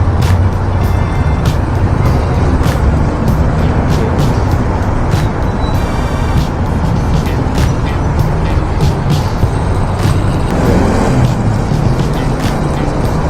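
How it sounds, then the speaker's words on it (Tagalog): Dense road traffic of cars, buses and trucks drones loudly and steadily on a busy street, a constant close wash of engine and tyre noise with occasional sharper passing sounds. "Traffic na naman dito."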